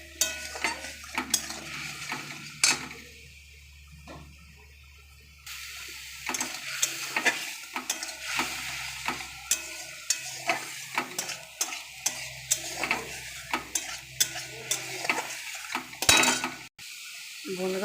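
Spices for a sour curry with lentil fritters are stirred in a hot pan, with repeated scraping and clinking of a spoon against metal over a low sizzle, steady and close, with brief quieter pauses.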